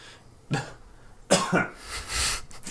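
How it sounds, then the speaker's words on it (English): Several close coughs, a single one first and then a harsher burst of coughing with some throat clearing. "I coughed"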